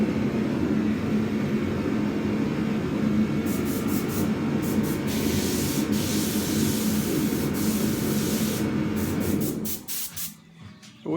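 An Iwata LPH 50 airbrush sprays paint in a steady, close hiss that runs continuously before cutting off near the end.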